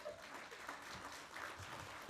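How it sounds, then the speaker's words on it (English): Faint, distant applause from the audience at a pensions conference session in Victoria Falls, a soft continuous patter of clapping throughout. "A big round of applause,"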